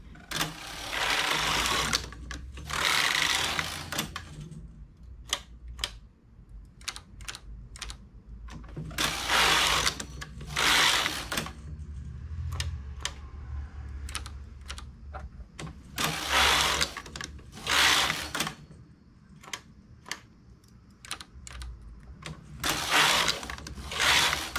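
Domestic knitting machine knitting an English rib vest, its carriage swept back and forth in repeated rattling bursts separated by short pauses, close and moderately loud with no talking.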